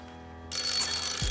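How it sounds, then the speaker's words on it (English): A telephone on a TV game show set starts ringing abruptly after a quiet moment, a loud, bright, sustained electronic bell tone with a low thump near the end. "It's a phone."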